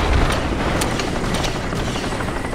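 Steady whirring rotor and engine roar of a helicopter in the video game Crysis multiplayer, loud and continuous, with no voices over it.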